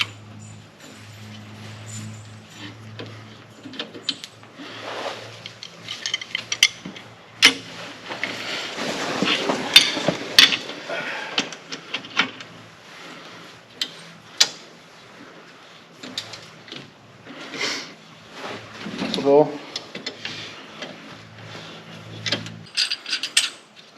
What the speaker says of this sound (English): Tighten up your center spring bolt